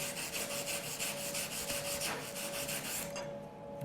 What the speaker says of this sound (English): just wire brush the weld just a little bit